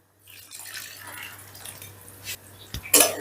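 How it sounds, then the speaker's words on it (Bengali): Hot water poured into a pot of chana dal with soybean chunks, a faint, soft watery trickle with a brief louder splash near the end. "ডালটা বেশ ভালো করে মেশানো হয়ে গেলে দিয়ে দিচ্ছি গরম জল।"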